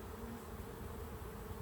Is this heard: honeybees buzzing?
yes